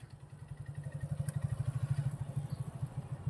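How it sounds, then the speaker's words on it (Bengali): During riding training, a motorcycle's engine pulses rhythmically and rises slightly as the clutch is eased out, a low throbbing beat heard close and fairly quiet. "অ্যাক্সেলারেটর জমাও, জমাও, অল্প করে ক্লাচ ছাড়ো।"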